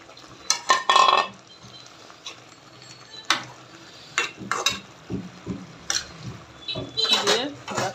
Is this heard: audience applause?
no